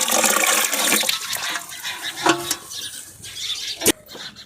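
A bucket of water is poured into a barrel outdoors on a farm, making a loud, continuous gushing splash that tapers off into dribbles and ends with a final sharp splash.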